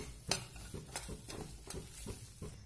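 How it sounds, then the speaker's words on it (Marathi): Gram flour roasting in a pan over low heat while being stirred steadily for moong dal khasta kachori, giving a faint scraping with soft regular strokes about every third of a second and a light sizzle underneath. "बेसनाला कंटिन्यू हलवत राहायचं आहे"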